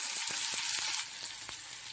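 Chopped onions hit hot oil and sizzle loudly, with a few light clinks of a spoon against the pan. The hiss fades slightly as the frying settles, and no one talks.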